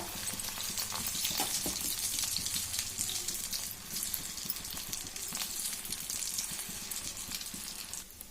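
Sago punugulu batter frying in hot oil on a low stove, a steady close crackling sizzle with bubbling that holds throughout, with no voices.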